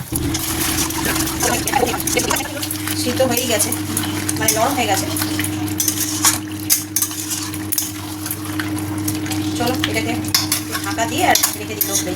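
Chicken pieces marinated in yoghurt sizzle in a pan while a utensil stirs and scrapes them, with repeated clinks against the metal and someone talking intermittently over the cooking.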